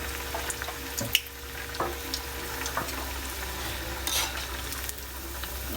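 Food frying in hot oil gives a steady, close sizzle with scattered small pops and crackles throughout.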